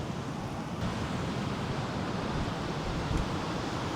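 Strong wind roars at Raumati Beach in New Zealand, a steady, dense rush with surf-like body that holds without a break, no voices over it.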